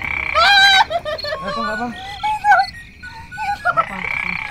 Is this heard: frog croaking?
yes